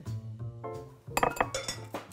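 Three eggs being beaten in a bowl, a quick cluster of sharp clinks against the dish after a brief low hum, close and fairly loud.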